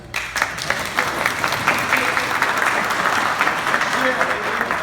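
An audience at a first-harvest ceremony breaks into sustained applause, a dense crackle of many hands clapping close by that swells quickly and holds steady throughout.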